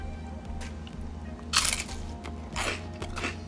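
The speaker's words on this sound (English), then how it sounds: "You hear that crunch?" Crisp crunching bites into a Trader Joe's scallion pancake, a few close, sharp crunch bursts over a low steady background hum, with no talk.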